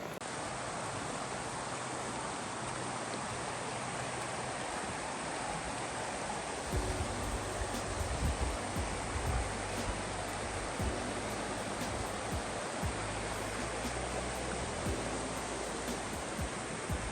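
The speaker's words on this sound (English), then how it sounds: "Okay, so we're approaching the creek." A creek on a farm rushes steadily, its water flowing in a continuous broadband wash with no voices over it.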